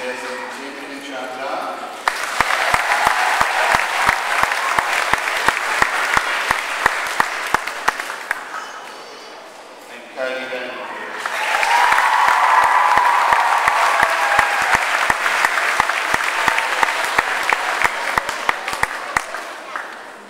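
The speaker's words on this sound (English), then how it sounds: "And one final applause for this group." Audience applause for a group at a presentation, steady dense clapping in two long bursts with a brief lull between, filling the room.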